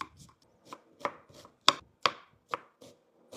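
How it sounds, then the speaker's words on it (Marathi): A knife chops onion finely on a board, a series of crisp, close, irregular taps, about ten strikes with short pauses between them. "आपण आता कांदा बारीक कट करून घेऊ"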